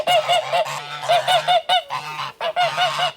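Geese honk loudly and close by in repeated bursts, several birds calling over one another in quick rhythmic runs with brief pauses, on a homestead where a nest with goslings is being split up.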